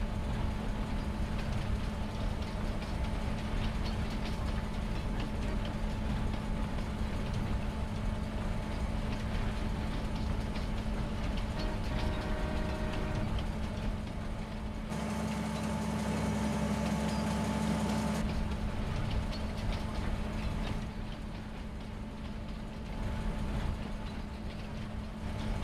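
A train rolls along the rails in a farming video game, a steady rumbling drone with a constant engine hum, holding loud and even throughout with a slight shift midway.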